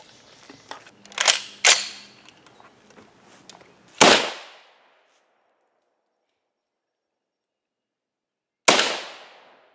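Two sharp, loud rifle shots of .308 M80 ball ammunition fired at a Level III armor plate outdoors, each ringing into a long decaying echo seconds apart, after a few quieter cracks and clicks at the start.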